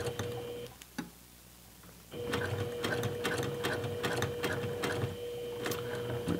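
Sewing machine stitching a makeup bag seam while boxing the bag, a steady close mechanical clatter with regular needle ticks, a short pause near the start, then continuous running to the end.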